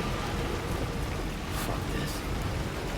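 Steady, dense rain hisses inside the video game Death Stranding 2 while the player rides exposed in a vehicle, a loud continuous wash of drops with low rumbling underneath.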